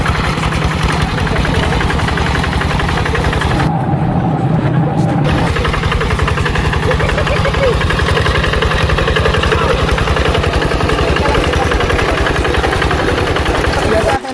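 A rice-field tractor fitted with a CJDW aftermarket exhaust idles close by with a loud, steady, knocking rumble that continues throughout, briefly dipping partway through, with some talking in the background.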